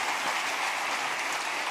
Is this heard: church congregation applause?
yes